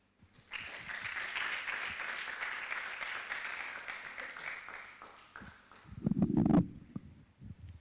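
Audience applause after a talk swells quickly and carries on for several seconds before fading, with a few louder close knocks and handling noises near the end.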